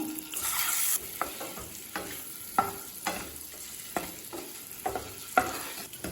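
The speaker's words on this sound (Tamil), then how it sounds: "நல்லா ஸ்லோலே வச்சு முட்டையை நல்லா வறுத்துக்கோங்க." Eggs fry slowly in masala for an egg gravy, giving a soft continuous sizzle broken by repeated light scrapes and taps of a spatula stirring in the pan.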